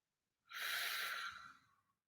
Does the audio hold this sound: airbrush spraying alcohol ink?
no